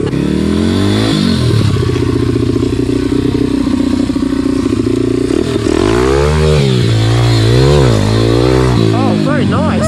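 Motorcycle engine revving hard and accelerating through rising and falling pitch sweeps during a stunt-riding wheelie lesson, loud and close, with a voice talking over it.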